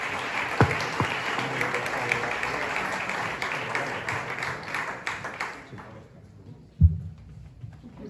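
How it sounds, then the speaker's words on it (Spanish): A live audience at a board game festival gala show in Barcelona gives a guest a dense, sustained round of applause. The clapping tapers off after about six seconds, leaving a quiet tail with one sharp knock. "un aplauso muy fuerte para él"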